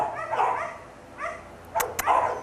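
A dog with behavior issues, a poor fit for a first-time owner, gives a few short barks and yips with quiet gaps between them, close by and fairly loud, with no one speaking.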